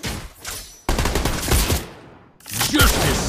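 Rapid bursts of gunfire in a shooting video game as enemies attack a defensive turret, loud overlapping volleys with a short lull before the shooting resumes.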